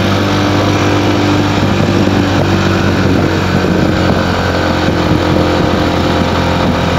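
A 2018 Royal Enfield Himalayan motorcycle picking up speed on the road, its single engine droning loud and steady under heavy rushing wind noise throughout.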